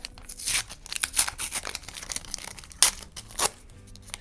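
A paper surprise packet with a Roblox collection theme is torn open, with several sharp ripping bursts and soft crinkling of paper between them, close and fairly quiet.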